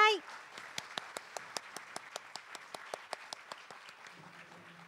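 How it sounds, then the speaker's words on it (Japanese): A small audience claps for the panelists at a 2021 SDGs symposium panel on ethical consumption in Tokushima. The claps are faint, distant and evenly spaced, fading toward the end after a short tonal sound at the start. "ご登壇いただいた皆様に大きな拍手をお送りください"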